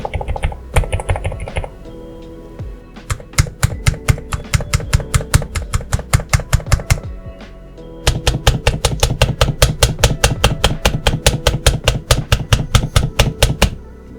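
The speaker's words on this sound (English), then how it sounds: "there are a couple keys that sound different than the rest. For example, here's the shift and the backspace." Shift and backspace keys on a NuPhy Node 100 keyboard are pressed again and again in quick, even runs of sharp, pronounced clicks, close up and loud, with a short pause between runs.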